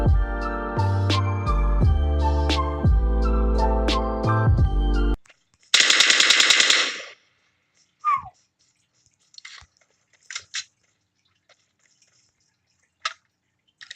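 A rapid burst of automatic gunfire from the battle royale game PUBG Mobile, lasting about a second and following a stretch of loud music, then a few sparse, faint clicks and taps.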